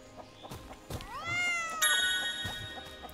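A cat meows in a video game, Sir Whoopass: Immortal Death, with a drawn-out, rising and falling mew followed by a brighter chiming tone, under light game ambience.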